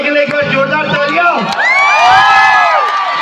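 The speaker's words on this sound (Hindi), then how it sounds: "मनोज भाई के लिए एक बार जोरदार तालियां।" A crowd at a college freshers party erupts for a singer, with loud whoops, rising shouts and cheers from many young voices up close, overlapping throughout.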